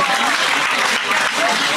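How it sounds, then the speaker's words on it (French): Audience applause at an evening awards ceremony, dense steady clapping from a crowd with voices mixed in, loud and continuous throughout. "On les applaudit."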